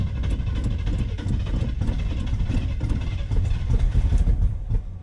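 A 1979 Chevy K10 truck's carbureted engine runs, a steady low rumbling clatter with a loud, near, slightly uneven idle throughout.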